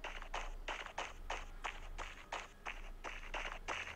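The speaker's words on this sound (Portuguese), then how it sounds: "Cara, eu ouvi passos aqui por aqui." Footsteps in the battle-royale mobile game Free Fire, a quick steady run of soft, evenly spaced steps heard alone and fairly close, with no speech over them.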